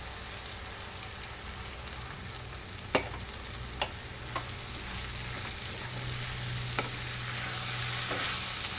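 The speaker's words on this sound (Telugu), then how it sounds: "హాఫ్ ఎన్ అవర్ ముందు నానబెట్టుకున్న పెసరపప్పును వేసేసుకోవాలి" Soaked moong dal tipped into ridge gourd frying in a pan and stirred, giving a steady close sizzle broken by a few sharp spoon clacks against the pan.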